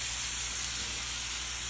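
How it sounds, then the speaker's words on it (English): Steady, quiet hissing sizzle from a hot pan as milk is slowly added, continuous and unbroken, with no voices. "Yeah, it's gonna be sizzling."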